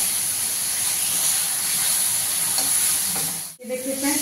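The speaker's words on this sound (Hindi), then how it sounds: "ये मेरा प्याज भुजा रहा है तो इसी समय हम इसमें अदरक लहसुन जो पेस्ट बना के उसको भी इसी समय डाल देंगे" Onions fry with ginger-garlic paste in a pan for jackfruit kofta, giving a loud, steady sizzle and hiss that runs unbroken until a brief dip near the end.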